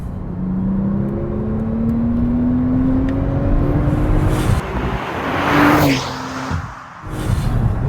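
A sports car about seven years old drives along at a steady cruise. Its engine note rises and falls with gear changes, and a brief rev swells near the end, with no talking.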